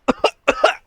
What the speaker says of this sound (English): That's me coughing quite a bit